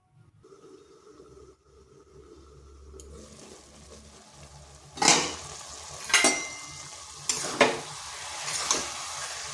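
Chicken cooking in a pan on a gas flame, stirred: a soft background sizzle with several distinct scraping stir strokes in the second half, close and moderately loud, no talking.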